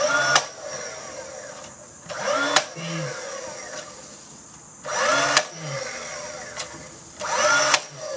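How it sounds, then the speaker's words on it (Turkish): A finish nailer drives nails into wood trim during a house painting job, with several sharp, loud bursts spaced a few seconds apart over a low background hum. "İlk önce birkaç çivi daha atayım da sağlam olsun."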